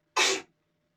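A single short, sharp sneeze bursts out close by, followed by quiet room tone.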